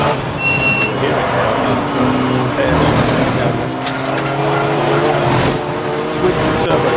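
A loud twin-turbo V8 race car engine roars and revs nearby at Snetterton circuit during an endurance race, its pitch rising and falling as it passes, with a hint of tire noise.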